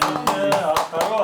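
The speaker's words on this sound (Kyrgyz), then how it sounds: "Кол чабуулар" Audience applause at a live comedy stage show, rendered as a few sharp, loud bursts of clapping over a busy backdrop of voices and tonal sound.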